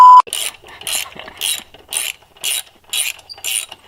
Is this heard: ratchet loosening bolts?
yes